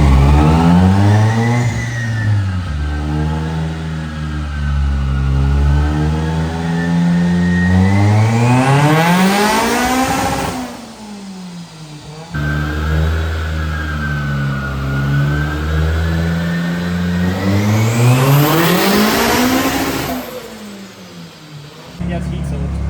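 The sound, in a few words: Toyota 3SGE turbo engine revving on dyno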